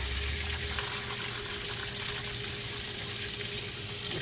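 Steady rushing spray of water from a hose washing off the engine bay of a Nissan Altima during a coolant flush, continuous and close with a constant low hum beneath it.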